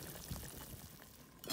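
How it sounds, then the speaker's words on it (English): Boiling water is poured into a potjie pot over a wood fire, a faint, brief liquid splash and trickle against a quiet outdoor background. "we're adding 500 milliliters of boiling water only"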